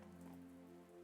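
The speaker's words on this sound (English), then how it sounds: "hear plinking of rain off of my head" Steady rain patters and plinks on a nearby surface, a dense continuous drizzle of small drops with a low background hum and no voices.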